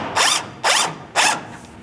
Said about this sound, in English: you can loosen the bolt for this rear fuel tank mounting strap with a 14mm socket